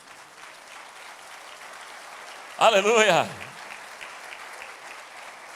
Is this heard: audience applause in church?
yes